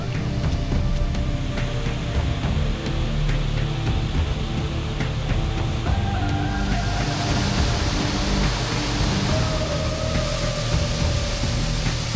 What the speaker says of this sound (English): I can hear water, so we can't be too far away from the waterfall